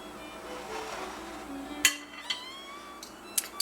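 Zucchini cookie dough scooped with two ordinary metal tablespoons onto a baking sheet, a few sharp clinks of spoon against spoon and pan over quiet background, close and sparse.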